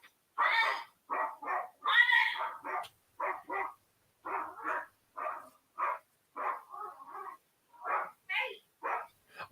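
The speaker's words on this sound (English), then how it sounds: "I can even hear the dog through." A dog barking over and over in quick, uneven bursts, some single and some doubled, fairly close and loud for nearly ten seconds.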